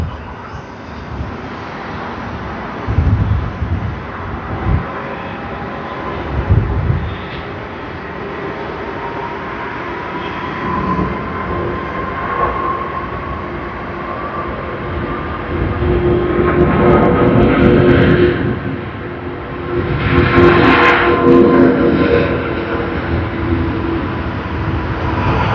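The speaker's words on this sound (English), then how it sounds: "get ready for the departure. QF81 Qantas service to Singapore." Qantas flight QF81, bound for Singapore, departs Sydney Airport, its jet engine roar building and swelling across the latter half from a distance, with a few brief knocks and faint voices earlier on.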